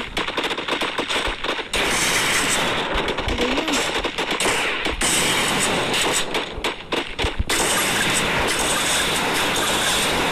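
Gunfire in a ranked mobile battle game, where an AWM sniper rifle is in play, comes as loud, dense bursts of shots over a constant roar, close and continuous throughout.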